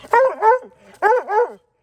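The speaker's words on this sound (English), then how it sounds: "I watched him come to this tree 3 or 4 different times and bark at it." A coon hunting dog barks at a tree outdoors, with two loud, close double barks about a second apart and a brief quiet gap after.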